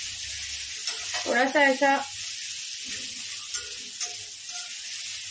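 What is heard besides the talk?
curry leaves sizzling as they are added to hot oil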